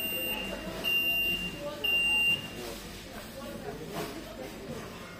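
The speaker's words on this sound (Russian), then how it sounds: "Это на меня опять среагировала пищалка." A store's anti-theft security gate gives repeated high electronic beeps in two bursts amid busy supermarket background noise with people talking.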